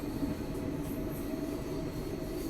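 Azad Hind Express from Howrah to Pune rolling along the tracks, heard from on board as a steady, dense rumble with low wheel noise and a faint high squeal, no voices.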